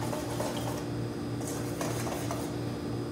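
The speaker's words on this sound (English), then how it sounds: "we want to just give that a little bit of a whisk to mix everything in" A whisk stirs dry ingredients for an upside-down banana bread cake in a mixing bowl, a steady, continuous scraping and clinking against the bowl over a low background hum, with no talking.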